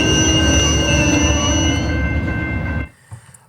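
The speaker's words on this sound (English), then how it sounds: "Must be another train then." A train rolls past at length, a loud, steady rumble with sustained high squealing tones from the wheels, until it ends abruptly, leaving near silence and a faint knock.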